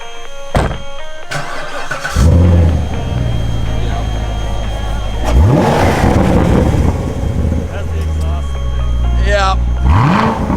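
A Corvette engine revs loudly and close by, with rising pitch sweeps on the throttle blips over a steady rumble that fills the whole clip.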